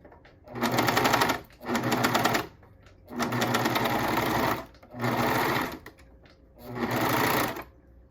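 A sewing machine stitches leggings fabric in five separate runs of rapid, close-up mechanical whirring, each lasting about one to two seconds, with short quiet pauses between them.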